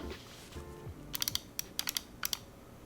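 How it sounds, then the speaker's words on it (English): Keys clack on a custom mechanical keyboard with a half plate and black ink switches. The typing is quick and nearby, with sharp clicks in small clusters over a low background murmur. "that thockiness and that deep sound signature from the black inks like starts to show the more you type"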